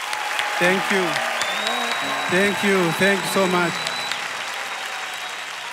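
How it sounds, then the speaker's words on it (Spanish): Studio audience at a Got Talent All Stars grand final applauding performers, a steady wash of clapping under someone speaking over it. "Este aplauso es para vosotros."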